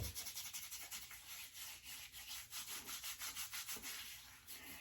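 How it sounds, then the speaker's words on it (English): A MoonDance shaving soap puck is rubbed directly against a damp face, making soft, rhythmic scrubbing strokes that repeat in quick back-and-forth pulses, close and quiet. "I'll have a damp face, and I'll go ahead and take the puck directly to my face."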